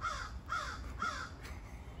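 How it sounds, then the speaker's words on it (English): A crow caws outdoors three times in an even rhythm, each call about half a second apart, moderately near and clear against a light background hiss. "Love that crow."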